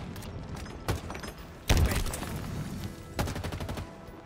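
Bursts of gunfire in a Halo 3 multiplayer map remake, several separate volleys with sharp attacks and a thump, set against steady game ambience with no talk.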